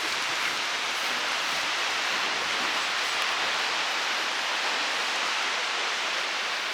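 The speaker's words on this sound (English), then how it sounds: "But we're here at this waterfall" Waterfall in Iceland, a loud, steady broadband roar of falling water heard close and unbroken throughout, with no voices over it.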